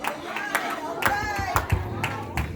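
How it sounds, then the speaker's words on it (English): A church congregation claps hands in a steady rhythm, the sharp claps carrying under a preacher's loud voice and the low murmur of the crowd. "y'all clap your hands"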